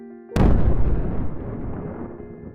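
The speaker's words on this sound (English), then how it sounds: "Noticing an explosion in the distance" A single sudden, heavy explosion booms in a story setting, bursting loudly after a quiet moment and rolling off into a long, rumbling decay.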